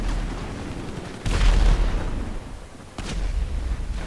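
Tank cannon fire in the video game GTA V: two heavy, loud booms about two seconds apart, each with a rumbling tail that fades before the next blast.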